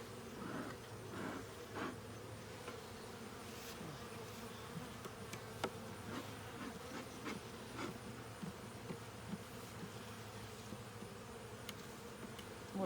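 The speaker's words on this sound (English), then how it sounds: "More bees in here than I realized" A dense swarm of bees hums inside an opened beehive, a steady close buzzing with individual bees droning past the listener, with no talk.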